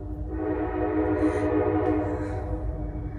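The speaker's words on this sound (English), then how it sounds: "I'm sorry about the train." A coal train rolls past on tracks behind a house, somewhat distant, with a steady low rumble throughout and a faint horn sounding briefly over it.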